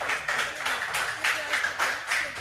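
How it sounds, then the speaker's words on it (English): Applause from the audience at a regional school quiz qualifier in the Northern Region, greeting student contestants; a steady, moderately close patter of clapping with periodic swells, filling the whole moment without talk. "A hand of applause to them."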